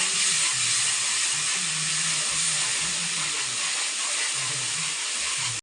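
Green chillies frying in hot oil for chilli chicken, a steady broad hiss and sizzle that runs unbroken and fairly loud throughout, with faint low bubbling underneath and no talking.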